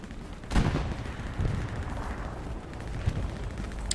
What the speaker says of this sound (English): Oh, he's being hit by a friendly tank, though.